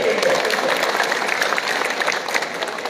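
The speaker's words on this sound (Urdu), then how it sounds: "بھرپور تالی ہونی چاہیے امتیاز کاکا خیل صاحب کے لیے" An audience applauds at the inauguration of the Ocean City Resort in Waisa, Hazro, Attock, a dense sustained round of clapping from a sizable crowd that stays loud and fades slightly at the end.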